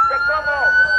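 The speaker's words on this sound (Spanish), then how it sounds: "ambulancias de Cruz Roja Guatemalteca llevan también prisa." A Guatemalan Red Cross ambulance siren wails with a steady high tone near a bridge during a large street protest, loud and close, with a voice talking over it.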